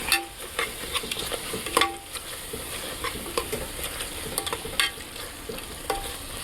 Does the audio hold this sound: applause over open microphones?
no